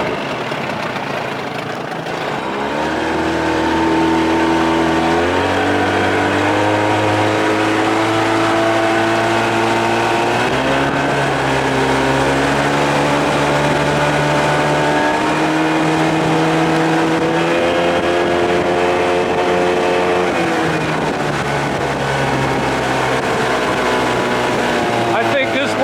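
An Evinrude 30 hp outboard motor on a boat runs loud and close, building up from idle and then holding a steady droning rev that shifts in pitch as throttle changes.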